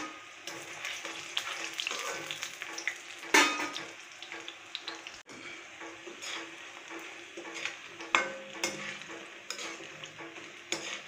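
Onion pakoras fry quietly in hot oil for a Masala kadhi, with soft sizzling under repeated stirring and scraping as a utensil turns them, and occasional sharper clinks against the pan.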